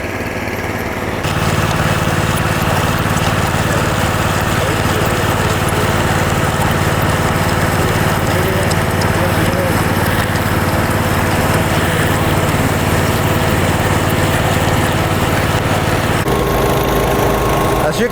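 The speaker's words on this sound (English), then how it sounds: "they are running the other trowel machine with a floating pan" A gas-engine power trowel with a floating pan drones steadily as it finishes a fresh concrete slab at a barndominium pour, a continuous, loud, unbroken motor whine running nearly the whole time.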